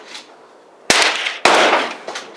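Two sharp gunshots fired at moving targets, about half a second apart, each a loud crack followed by a brief ringing tail, with no talking over them.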